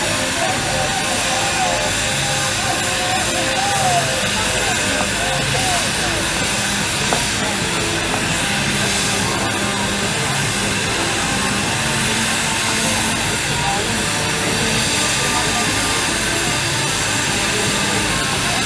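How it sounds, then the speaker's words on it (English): A 1931 Fowler 5 horsepower steam tractor running at a steam show, giving a loud continuous hiss and mechanical clatter, with crowd noise and talking mixed throughout. "It's a 1931 Fowler 5 horsepower steam tractor owned by Martin Shepherd from Warwickshire."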